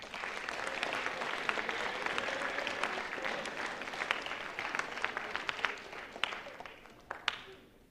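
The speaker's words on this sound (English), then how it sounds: "You can give your junior class a round of applause." Fairly quiet applause from a school chapel audience honoring the junior class, steady clapping throughout that thins into scattered individual claps near the end.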